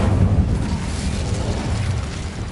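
Incendio fire spell cast in Hogwarts Legacy, a loud, sustained roaring burst of flame with a deep rumbling body that holds steady for about two and a half seconds, heard alone.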